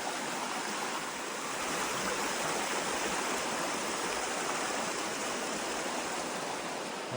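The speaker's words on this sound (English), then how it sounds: "A bit of a river here that I have to cross." River flowing beside a hiking trail on the Pacific Crest Trail near Stehekin, a steady, dense rush of water that stays close and loud throughout, with no talking.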